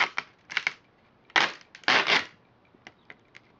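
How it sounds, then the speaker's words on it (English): A Dexter knife cutting into tough plastic, heard as several close, short crunching and snapping bursts with pauses between them, louder crackling near the middle, and no talk. "I actually want to see if this could cut the plastic in half"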